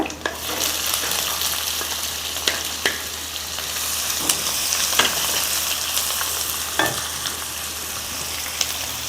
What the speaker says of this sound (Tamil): பூண்டு நல்லா பாதி வதங்கினதுக்கு அப்புறம் நம்ம வெங்காயத்தை போட்டுடலாம்.